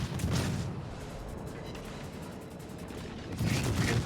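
Naval artillery fires in World of Warships, with a booming salvo at the start. A dull rumble follows, then a second loud burst of gunfire near the end, with no talking.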